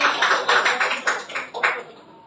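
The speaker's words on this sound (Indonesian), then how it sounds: "Kita tepuk tangan semuanya." An indoor audience claps together at the close of a talk, a dense burst of overlapping hand claps that pulses in waves and fades toward the end, with no speech over it.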